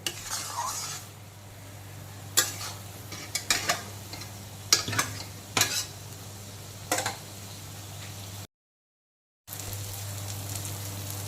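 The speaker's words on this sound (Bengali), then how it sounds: "ডিমগুলো দেওয়ার পরে আবারও 3-4 মিনিট সময় নিয়ে মশলার সঙ্গে খুব ভালো করে কষিয়ে নিয়েছি।" Eggs with masala stir-fry in a wok for a jackfruit curry as a spoon scrapes and clinks against the pan in scattered strokes over a steady low sizzle and hum, with a brief silent gap near the end.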